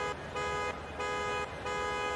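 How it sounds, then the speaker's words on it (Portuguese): Horn of the Hot Wheels Bone Shaker car in Forza Horizon 5 honks three times in a row, a loud, buzzy tone with short gaps of engine idle between blasts. "Ó a buzinadinha."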